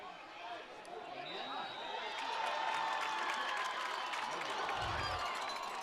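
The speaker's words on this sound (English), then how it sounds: "I love to hear the crowd who has a bad angle cheer because they think it goes through" A high school football crowd in a stadium roars and cheers during a field goal attempt, a loud sustained swell of voices that builds and holds across the stands.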